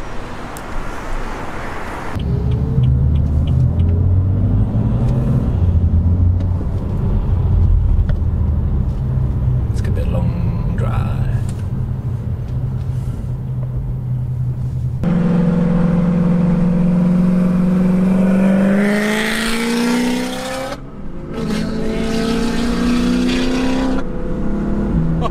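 A black Shelby GT350 or Ferrari 458 sports car drives on Las Vegas streets, with a loud engine droning and rising through gear changes and revs, a sharper pull near the end, and people talking in the cabin over it.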